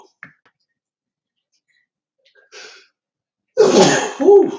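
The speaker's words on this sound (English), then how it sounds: "I'm going to have to sneeze." One loud, close sneeze bursts out at the end after a few faint breaths and small mouth sounds, with no talking.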